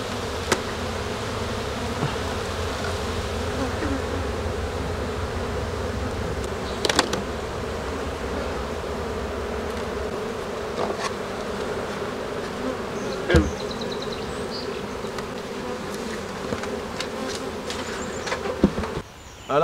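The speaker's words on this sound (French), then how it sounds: "On s'assure que les abeilles se glissent entre les cadres." Honeybees drone in a steady, dense buzz around an open hive during a colony inspection, with a few sharp knocks and clicks of frames and tools scattered over the continuous hum.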